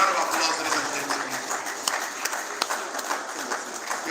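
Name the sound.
audience applause welcoming a conference speaker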